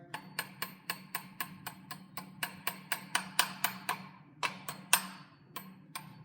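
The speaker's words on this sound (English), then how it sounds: "let me tap that in place with a hammer" A hammer taps a metal key into place on an early VW engine fan shroud in a steady run of about twenty sharp, close strikes, the last few spaced out and a little harder.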